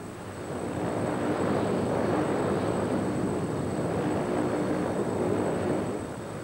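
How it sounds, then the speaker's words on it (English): Tupolev Tu-95 Bear bomber with turboprop engines, a steady broad rumbling drone at moderate distance that swells in and holds, with a faint high whine on top and no voices. "the great rumble of the Bear's engines can still be heard across Russia, Europe, and the oceans of the world"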